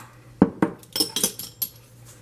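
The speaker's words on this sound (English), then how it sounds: "Just keep stirring. Stirring, stirring, stir." A spoon stirring a homemade deodorant mix of arrowroot and oil in a kitchen bowl, a series of close, light scraping clinks in an uneven rhythm, with no talking.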